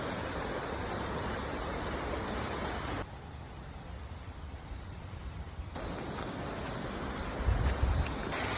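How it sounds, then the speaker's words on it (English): A waterfall on a spring hike at Silver Falls gives a constant, fairly faint rushing roar, mixed with gusts of wind buffeting the microphone, with no one talking. "We made our way to our first waterfall."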